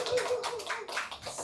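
An audience claps at a poetry book launch, giving a short burst of scattered handclaps that fills the moment at moderate level.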